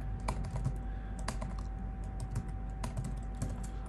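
Steady typing on a computer keyboard, close and clear, with quick irregular clacks of individual keys and no talking.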